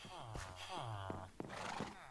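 A horse in a video game whinnies repeatedly in rising, quavering cries, with a few hoof-like knocks in between, fairly quiet and up close.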